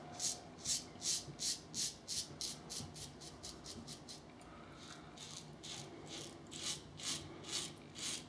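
A Wilkinson Sword TTO double-edge safety razor scraping against the grain of the beard: a steady run of rhythmic rasping strokes, close but quiet, with no speech.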